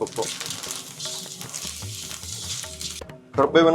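Curry leaves crackling in hot oil as spices are stir-fried for sambar, a steady dense sizzle with scraping stirs, close and fairly loud, bursting sharper near the end.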